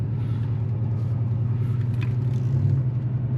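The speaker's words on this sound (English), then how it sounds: "Got another Porsche pulling out over there" Porsche pulling out nearby, a low steady engine rumble with slight swelling toward the end, continuous and moderately loud.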